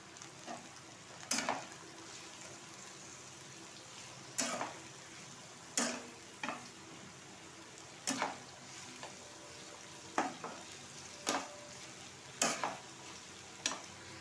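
Chopped onion, garlic and tomato sizzle steadily in a hot pan for a Bombay duck fish jhuri, broken by sharp, irregular clinks and scrapes as a spatula stirs every second or so.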